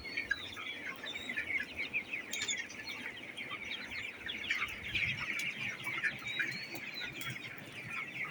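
Chickens on a poultry farm keep up a steady, close chorus of clucks and chirpy calls with no break, and faint farmyard background underneath.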